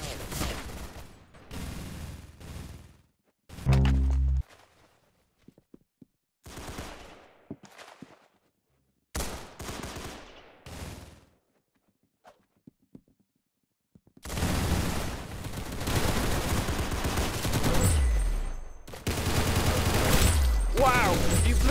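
Gunfire from the shooter video game Arsenal comes in scattered bursts and single cracks, separated by near-silent gaps, ending in a longer stretch of dense, loud firing.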